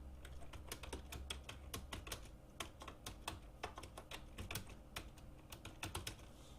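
Rapid typing on a computer keyboard while working in MS Word, a dense run of crisp key clicks with quick irregular rhythm, close and fairly quiet, with no speech.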